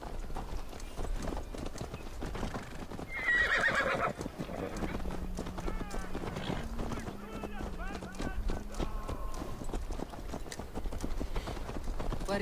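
A horse in the video game Assassin's Creed Valhalla neighs and its hooves clip-clop steadily along, with a whinny rising partway through and game voices talking over the sound.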